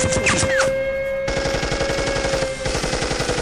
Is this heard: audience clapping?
no